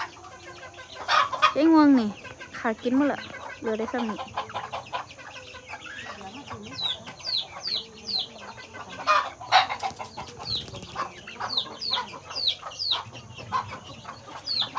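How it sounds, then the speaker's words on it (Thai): Chickens cluck and squawk repeatedly around a yard, some calls close and loud, others farther off, with a person talking intermittently among them. "แม่นะเลี้ยงไก่หลายแฮง"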